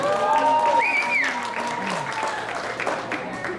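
A crowd of parents and guests at a junior high football end-of-season banquet applauding and cheering loudly, with whistles rising above the clapping, steady throughout.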